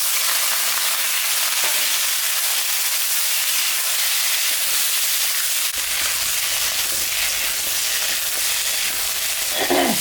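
Potatoes and eggplant frying in a pan with already-fried onions, giving a steady, loud sizzling hiss throughout, with a fuller, deeper crackle after the vegetables go in partway through.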